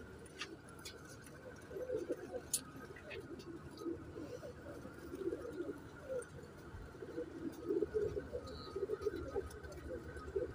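Royal teddy pigeons cooing steadily in soft, repeated low rolls, close by, with faint background noise and no talking.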